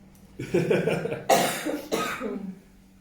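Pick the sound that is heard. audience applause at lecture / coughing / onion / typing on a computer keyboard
coughing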